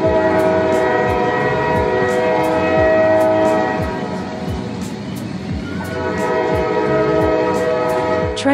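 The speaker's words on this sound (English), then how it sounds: "train." Train passing with a loud, sustained horn blast of steady stacked tones over rumbling rail noise, continuous through the whole stretch with no talk.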